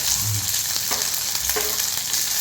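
Small onions (shallots) fry in a pan with a steady, close sizzle, broken by a few soft stirring scrapes, and no voice.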